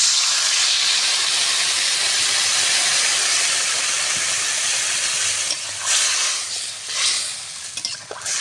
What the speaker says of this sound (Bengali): ঝোলটা সুন্দরভাবে ফুটে গেছে